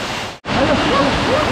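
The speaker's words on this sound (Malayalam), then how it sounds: "വലിയൊരു വെള്ളച്ചാട്ടമാണ്" A large waterfall in a forest near a house roars as a loud, steady broadband rush, briefly dropping out for an instant, with faint voices under the torrent.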